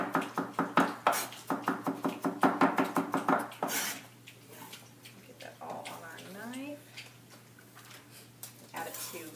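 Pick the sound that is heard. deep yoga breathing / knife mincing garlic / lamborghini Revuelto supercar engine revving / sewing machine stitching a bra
knife mincing garlic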